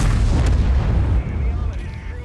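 A heavy tank gun blast in World of Tanks, one loud booming shot up front followed by a long rumbling decay that fades over a couple of seconds.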